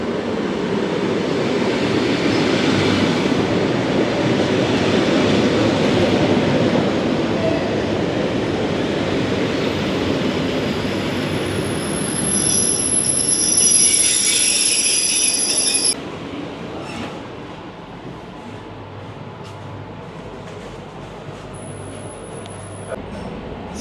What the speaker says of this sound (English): So we're on the train now and heading into Moscow.